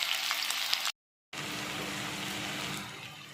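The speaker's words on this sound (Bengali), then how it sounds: "তেলটা গরমও হয়ে গেছে। এবার কোচানো পেঁয়াজটা দিয়ে দিলাম।" Chopped onion dropped into hot mustard oil in a pan gives a loud, steady frying sizzle that continues after a brief dropout.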